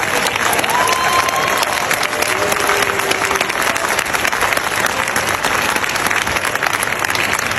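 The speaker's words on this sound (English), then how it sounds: "normally the applause for people who pray for us lasts a little longer." Audience applause at a Ghanaian gathering, dense sustained clapping from a large crowd that stays loud and even throughout, with faint voices mixed underneath.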